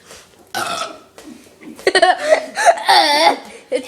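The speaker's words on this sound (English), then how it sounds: "Swallow air and then burp it out." A person lets out loud, drawn-out burps after gulping air and soda, several bursts over a few seconds, close to the microphone and standing alone with no talk over them.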